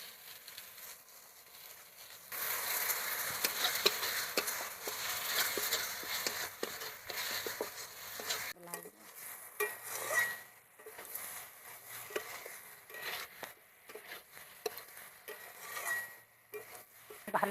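Prawns and tomato paste are stirred and sautéed in a pan. A spoon scrapes and clinks against the metal over a soft sizzle, starting faintly and growing busier and louder, with no voices.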